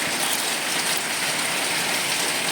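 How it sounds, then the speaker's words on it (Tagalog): Heavy tropical downpour during a spell of very bad weather, a dense, steady roar of rain hitting surfaces, loud and unbroken with no voices. "Sobrang lakas ng ulan."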